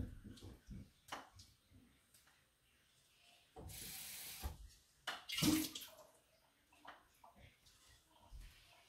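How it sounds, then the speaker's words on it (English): Homemade butter being rinsed under running water, with broad splashing and rubbing bursts that come and go, one loud stretch of flowing water near the middle, and no talking. "So I'm going to rinse it a bunch more times"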